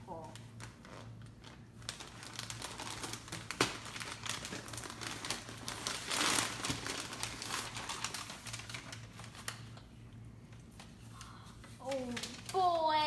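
Paper from a Stitch Fix kids box crinkles and rustles in irregular bursts near the microphone, with a voice chirping briefly at the end.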